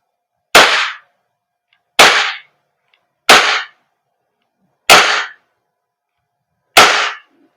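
An Umarex Glock 45 Gen 5 VFC gas blowback airsoft pistol fires five sharp, loud cracks, evenly spaced about a second and a half apart, each with a short decay and clean silence between.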